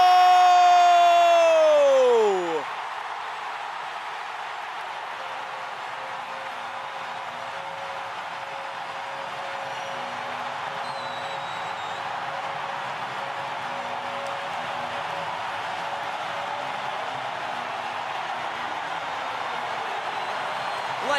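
Football fans roar in a stadium after Honduras scores at the 2021 Gold Cup against Panama, a steady, dense crowd noise that holds throughout, with a whistle-like tone sweeping down at the start.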